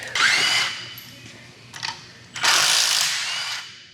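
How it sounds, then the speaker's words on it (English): A small ratchet and power tool work bolts on an LS engine, with loud whirring bursts, brief clicking passes and a longer, close spinning run. "Why are you using such a small ratchet?"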